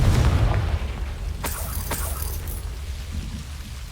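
A Confringo blasting spell explodes in the Hogwarts Legacy video game: a deep, loud boom opens the clip, then fades into a rumbling tail with a couple of sharp crackling pops.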